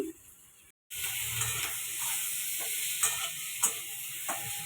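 Ginger paste, cumin and turmeric powder, salt and a little sugar fry in a pan for a rui fish curry, a steady loud sizzle with occasional scraping stirs after a brief silent gap at the start.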